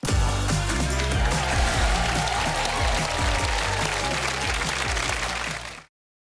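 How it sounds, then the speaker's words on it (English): Studio audience applause with cheering for a guest on a wellness talk show, dense and steady for about six seconds before cutting off abruptly. "huge round of applause for Mel the Bull"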